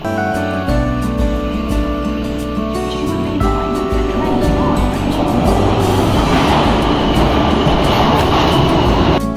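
A London Underground train running between Swiss Cottage and Covent Garden, a loud continuous rumble and rail roar that swells toward the end, with faint murmuring voices in the carriage.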